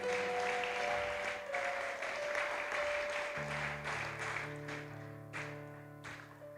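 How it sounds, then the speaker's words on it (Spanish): Sustained applause from a church congregation for the Lord, dense continuous clapping with a tonal chord from keyboard or organ underneath, gradually fading toward the end. "Vamos a dar un fuerte aplauso al Señor."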